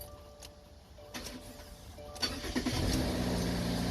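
A Subaru 2.0L engine in a 2018-era Impreza, Crosstrek or Ascent with a CVT cranks on a new starter with a few ticks, then catches and settles into a steady idle, close up and with no talking.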